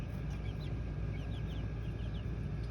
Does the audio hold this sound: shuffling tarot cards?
no